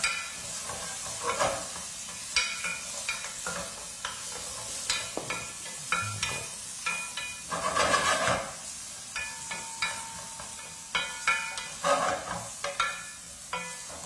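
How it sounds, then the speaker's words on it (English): Lamb chops seasoned with salt and black pepper fry in a pan, giving a quiet steady sizzle broken by scraping and stirring strokes from a utensil, heard close with no talking. "Once you stop hearing the sizzling sound"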